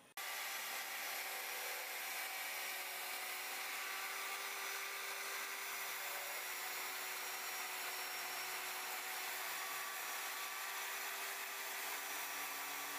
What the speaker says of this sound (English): I'm going to use this grinder here to shape these knee pads so that the recaps will fit properly.